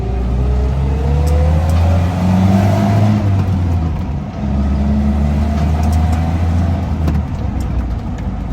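A petrol BMW 3 Series car accelerating through the gears, its engine loud and close with rising pitch sweeps between shifts and a continuous strong roar.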